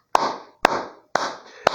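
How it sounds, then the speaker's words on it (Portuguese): One person clapping hands slowly, four sharp separate claps spaced about half a second apart, each with a short ringing tail in a quiet room. "Eu bato palmas para você"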